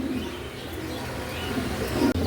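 Pigeons kept for sale coo softly in a low, muffled murmur, several birds overlapping at a steady level with no voices.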